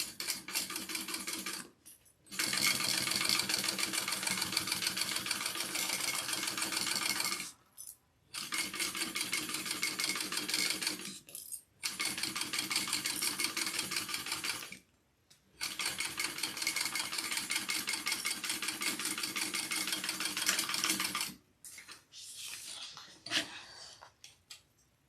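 Sewing machine stitching a seam on the Linds Handmade Monroe pattern, running in several long steady bursts separated by short pauses, close and fairly loud with no talking.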